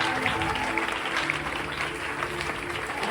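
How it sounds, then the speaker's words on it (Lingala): A church congregation at a Pentecost service claps and cheers loudly in a dense, continuous wash of applause that fills the room for a few seconds. "Est-ce qu'on peut acclamer très fort pour le salut?"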